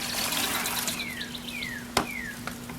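Water runs steadily into and around a five-gallon bucket as it is rinsed out, a continuous close splashing wash with a single sharper knock near the end and no talking.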